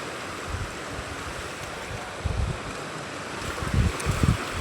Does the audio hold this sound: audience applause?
no